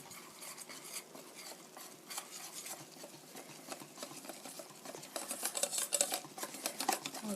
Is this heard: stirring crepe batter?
yes